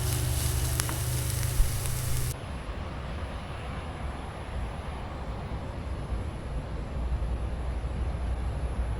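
Spinach greens fry in a pan with a steady, soft hiss and crackle. A louder burst of noise opens it, then the sizzle continues evenly.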